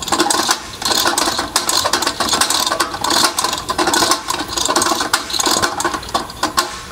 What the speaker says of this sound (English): Now it makes a little bit of noise, and that's the arbor declutching every time it goes around